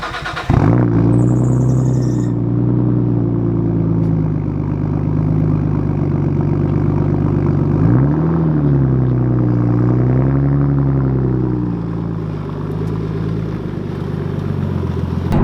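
A Nissan Skyline R34 fires up with a loud cranking start, then settles into a deep, steady, rumbling idle with one brief blip partway through.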